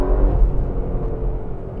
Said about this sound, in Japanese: バブリングもすごいバブバブ言ってますね。